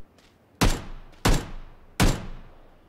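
Three loud, evenly spaced gunshots in a PUBG-style battle royale game, each a sharp crack with a decaying tail, preceded by faint distant shots.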